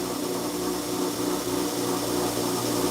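A knife grinder works steel blade bevels at 120 grit, giving a steady, close mechanical whine and hum with a continuous abrasive hiss and no talk.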